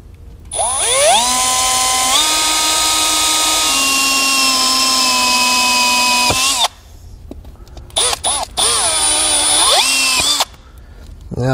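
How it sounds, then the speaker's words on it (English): A power drill with a 3/4 inch bit boring a hole in a 2019 Chevrolet Sonic, a loud close whine that shifts pitch as the bit bites, then several short stop-start bursts. "I'm going to drill a small pilot hole through there. And then I'm going to be using a 3/4 inch bit."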